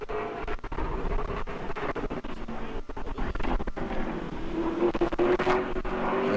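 A pro late model race car roars past on the track during qualifying at New Smyrna, its loud engine note holding steady and then rising as it sweeps by close.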